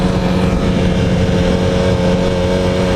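A Yamaha R1 motorcycle engine runs steadily in first gear at about 40 mph, a loud, continuous drone with a strong harmonic hum and constant wind-rushed roar, no pauses across the stretch.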